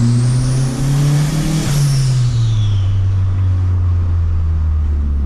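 A 300 hp Kadett GL Turbo with a forged engine and FT450 engine management roars loudly up close, its revs climbing, then falling away into a steady, heavy idle-like drone. No voices.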